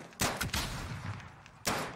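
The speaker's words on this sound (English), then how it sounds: "Oh fuck, this is a shotgun." Shotgun blasts in a first-person video game, two loud booming shots roughly a second and a half apart, each with a sharp broadband crack and rumbling tail over a busy background.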